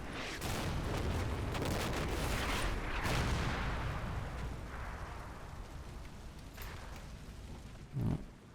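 Artillery fire pounding the ground in Combat Mission: Battle for Normandy, a steady barrage of heavy thuds and rolling booms that gradually fades, with one closer sharp impact near the end.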